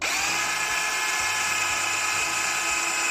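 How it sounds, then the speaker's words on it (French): A power drill pre-drills a wooden board for a homemade Advent calendar, a steady high whine running loud and unbroken for the whole few seconds, close by and with no voices. "On pré-perce maintenant notre planche et on va aller de l'autre côté."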